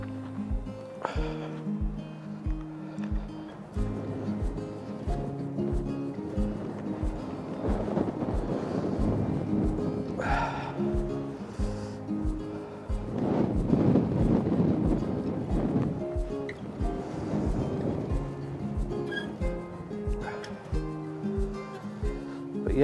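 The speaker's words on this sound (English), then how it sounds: "You can tell how windy it is." Strong wind on the North East coast at sunrise buffets the microphone in gusty, rumbling surges, loudest in the middle, with a low tonal drone running under it.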